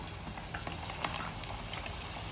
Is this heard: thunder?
no